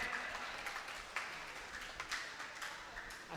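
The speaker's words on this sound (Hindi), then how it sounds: "जोरदार तालियों के साथ इनका इस्तकबाल करें" Audience at an All India Mushaira in Ganeshpur applauding to welcome a poet, a dense, steady wash of clapping with a few sharper claps standing out.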